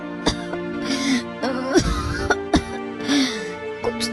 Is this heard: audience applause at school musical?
no